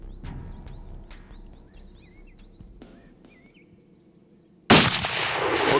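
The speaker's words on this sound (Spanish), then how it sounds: "Otro disparo letal de Antonio hace que el animal caiga" A single loud, abrupt rifle shot rings out in the field during a roe deer hunt. It follows a few seconds of chirping birdsong and is followed by a lingering boom.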